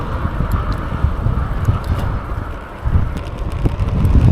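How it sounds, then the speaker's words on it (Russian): Gusty wind on the Scottish coast buffets the microphone with low rumbling bursts, dipping briefly before swelling again, with no voices. "Начался ветер такой приличный. Дует, естественно, прям в меня."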